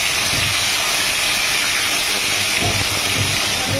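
Vegetables and lentil dumplings frying in hot mustard oil, a steady loud close sizzle throughout with no talk.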